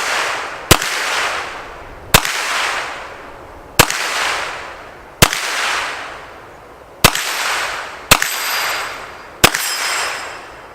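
Seven evenly spaced shots from a Hi-Point 995ts carbine crack sharply at an outdoor range, each trailing a long decaying echo, with a faint metallic ring from steel targets after the later shots.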